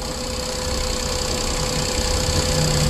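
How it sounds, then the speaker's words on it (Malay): A Perodua Viva car engine idles with a steady, even mechanical hum and low rumble, heard close and alone without talk. "Steady dia punya engine. Tidak ada masalah."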